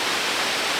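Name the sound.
Shiraito waterfalls near Mt Fuji, Japan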